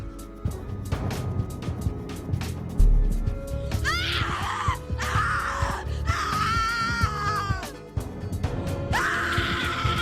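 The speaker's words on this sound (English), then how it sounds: "Your scream is like a poem without words." Scream in The Cat Lady video game: a woman's drawn-out, wavering screams and strained cries rise in repeated bursts over a dark game soundtrack, loud and close, with no talk.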